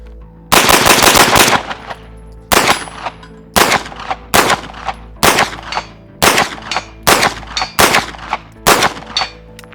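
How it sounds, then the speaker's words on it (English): Bursts from an APC9K submachine gun ring out loud and close, a long opening string followed by a steady series of short, evenly spaced strings of automatic fire with sharp metallic clangs between them. "So we've done a lot of shooting with the APC9K."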